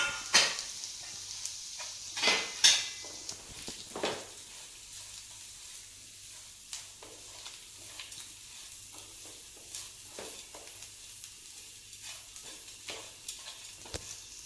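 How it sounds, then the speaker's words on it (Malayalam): Grated coconut and turmeric are stirred in a cooking pan: a quiet, continuous sizzle broken by sharp spatula scrapes and clinks, loudest in the first few seconds and then sparser. "കുറച്ച് തേങ്ങ ചിരകിയതും കൂടെ ഇട്ട് കൊടുത്തിട്ട് നന്നായി ഇളക്കി യോജിപ്പിക്കാം."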